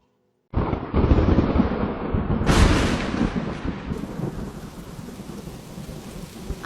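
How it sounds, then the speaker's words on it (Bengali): Heavy rain pours down in a cartoon flood scene, with a sudden loud crack of thunder rolling into a sustained, dense downpour that continues without any talking. "আবারও বৃষ্টি শুরু হয়ে গেল।"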